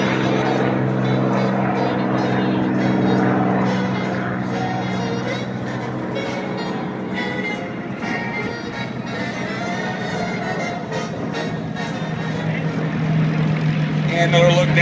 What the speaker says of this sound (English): And a P-51D taking off.